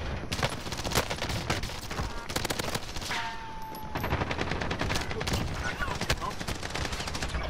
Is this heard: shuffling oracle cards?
no